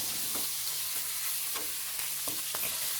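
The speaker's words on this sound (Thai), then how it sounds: "เชฟก็จะใส่หมูสับลงไป อีก250กรัมครับ แล้วก็เริ่มผัดต่อเลย" Minced pork stir-fried in a hot pan with chili and garlic gives a steady sizzle, broken by regular scraping strokes of a spatula every half second or so.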